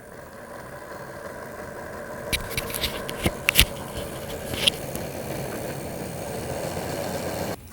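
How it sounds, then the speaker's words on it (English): A model locomotive runs on a DCC Concepts rolling road, giving a steady mechanical hum with a few sharp clicks and rattles partway through, close and moderately quiet, with no talking. "I've got the locomotive set on the rolling road, so now we can take a listen and see how it runs"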